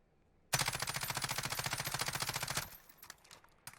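Ram 7 assault rifle fires in Warzone as one rapid, loud automatic burst of about two seconds with evenly spaced shots, then fainter trailing echoes and a few scattered clicks.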